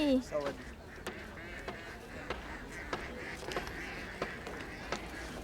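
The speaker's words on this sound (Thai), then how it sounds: "เป็ดไล่ทุ่ง ที่เมืองไทยไม่มี" A herd of ducks being driven through a field quack repeatedly in short, sharp bursts across a wide open space, with steady background noise and some indistinct human sounds.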